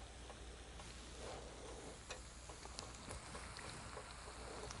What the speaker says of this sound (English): That's the sound of grease bannock frying.